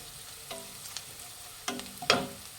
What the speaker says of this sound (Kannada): ಇದು ಫ್ರೈ ಮಾಡಿ ಚೆನ್ನಾಗಿ ಎಣ್ಣೆಯಲ್ಲಿ